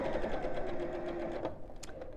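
A sewing machine runs a continuous stitch through felt for an Easter egg decoration, a steady close whirring that slows and stops near the end, with no talk.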